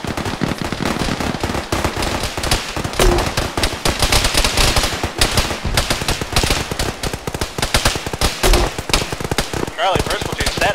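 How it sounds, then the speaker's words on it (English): Dense, relentless machine gun fire in a military shooter video game, loud rapid bursts overlapping almost continuously, with people talking underneath. "that's a shit ton of gunfire."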